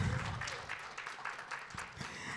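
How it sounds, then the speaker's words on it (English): Audience applause for a panelist at a grassroots sustainability conference: a fairly quiet, steady wash of many hands clapping, with a little voice sound mixed in. "can we give him a round of applause?"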